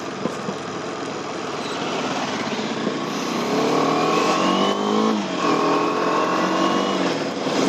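Stock KTM motorcycle on a test ride, its engine revving up through the gears with rising whine, loud and close, under wind noise.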